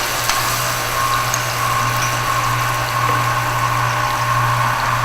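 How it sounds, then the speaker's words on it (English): Garlic sizzles steadily in hot oil in a pan, a continuous bright frying hiss with a low hum underneath, fairly loud and unbroken throughout. "Once the oil is ready, we're going to add 1 heaping teaspoon of garlic"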